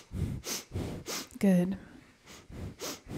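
Breath of fire in a Kundalini yoga session, with rapid, forceful rhythmic breaths through the nose pulsing about three times a second, close and loud. The pattern breaks once for a brief spoken word.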